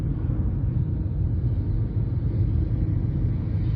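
A 2023 Ford Maverick Hybrid XL with its naturally aspirated 2.5-liter four-cylinder accelerates in sport mode, heard from inside as a steady, loud low rumble that drones on without a break.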